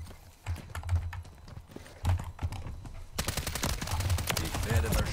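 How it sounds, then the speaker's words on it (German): Gunfire in the shooter game Call of Duty: Modern Warfare 3 crackles in rapid bursts of automatic shots, some sharp cracks standing out, then a louder, denser barrage of fire toward the end. "Ich werde beschossen!"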